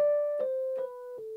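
Keyboard notes played legato with the sustain pedal, a few connected tones gliding one into the next with soft attacks, quiet and alone.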